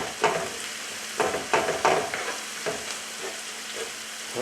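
Tomato paste being worked around a hot pan with a spoon, sizzling and frying quietly. Several scraping stir strokes come at an irregular pace, and no one speaks.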